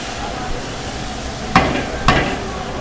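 Garlic-ginger paste goes into a hot pan for a green garlic and sev-tomato curry, giving a steady frying sizzle with two sharp clinks of a spoon against the pan.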